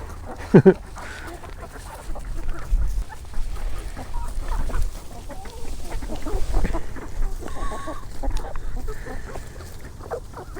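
Clucking and squawking chickens mixed with other barnyard fowl noises, busy and continuous, with a sharper call near the start.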